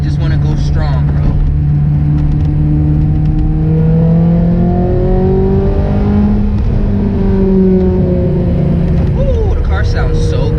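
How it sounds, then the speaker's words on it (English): A Honda S2000 engine climbs through the revs repeatedly as it accelerates and shifts at night, a loud, continuous, rising whine heard from inside the car. "the car sounds so good"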